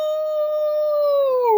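A man imitates an old hound dog with a single long, steady, loud howl held for over a second, close to the microphone.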